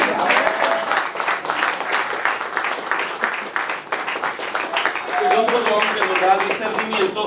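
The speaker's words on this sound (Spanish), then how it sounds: "Démosle un fuerte aplauso al Señor." A church congregation applauds during a Spanish-language sermon, a sustained round of loud, steady clapping that carries on for several seconds with crowd voices mixed in.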